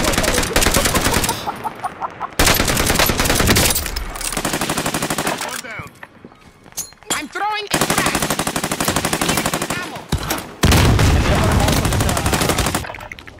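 Anti-air flak cannon firing in a combat video game, heavy rapid bursts of gunfire in several long loud stretches separated by brief pauses, with other in-game sounds between.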